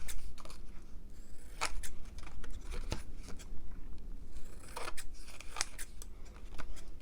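Scissors, their blades coated with glue, trim a handmade botanical paper tag in a series of close, crisp snips, irregularly spaced with short pauses between cuts.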